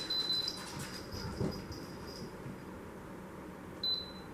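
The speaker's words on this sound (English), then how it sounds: "Sorry for the beep." A thin electronic beep tone from an Instant Pot pressure cooker sounds at the start and again near the end, with a steady low hum and light clatter in between.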